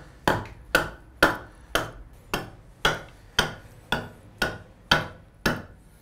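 An axe chops wood to shape the crest of a captain's chair, eleven crisp, evenly spaced close strikes at a steady rhythm with quiet pauses between blows.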